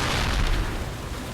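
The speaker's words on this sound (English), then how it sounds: "we actually survived the explosion" C4 charge detonating in the horror game Cold Fear, a loud close blast with a deep rumbling boom that fills the sound and then slowly tails off.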